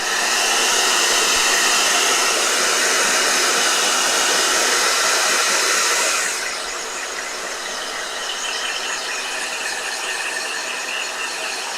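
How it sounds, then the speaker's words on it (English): A blow dryer runs steadily and loud throughout with a whirring, hissy roar, its tone shifting slightly partway through as if the speed setting changes; no talking. "Blow dryer. Try it."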